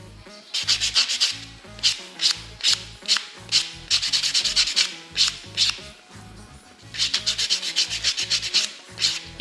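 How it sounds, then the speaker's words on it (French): A white buffing block rubs back and forth across the surface of a false nail, making close, rhythmic scratchy strokes in quick repeated bursts with brief pauses between. "on va venir polir avec l'aide du bloc blanc pour bien lisser la surface de l'ongle"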